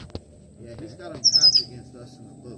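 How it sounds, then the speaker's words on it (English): A boat-tailed grackle calls in the Everglades during an airboat ride, a brief burst of high, rapid chirps near the middle, heard close under a man's speech. "Boat-tailed grackle."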